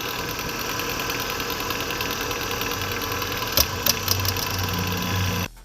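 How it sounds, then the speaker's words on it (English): Fresh bushings being pressed into reconditioned connecting rods from a Toyota 22RE engine, a steady mechanical hum throughout with a short cluster of sharp knocks toward the end and no talking. "Now I'm pressing in the new bushings."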